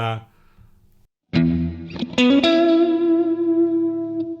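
An effected guitar tone from a BOSS ME-90 Vox Freeze preset swells after a short silence and hangs as a sustained, shimmering drone with distortion and reverb.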